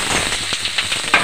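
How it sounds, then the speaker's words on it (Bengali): Pumpkin pieces drop into hot oil with a mustard seed tempering, giving a brief burst of sizzling and crackling with a few sharp pops, close and fairly loud. "কুমড়োটা দিয়ে দেবো ফোড়নের মধ্যে।"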